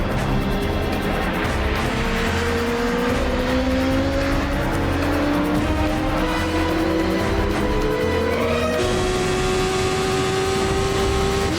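Motorcycle engines in a chase scene from the film Mission Impossible Rogue Nation, shot in Morocco, a loud continuous rising whine climbing steadily in pitch as the bikes accelerate, with a gear shift near the end.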